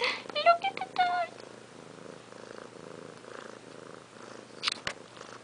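A cat with sore ears and a broken tail purrs steadily and close, a soft continuous rumble that fills the clip, with a few brief higher sounds near the start.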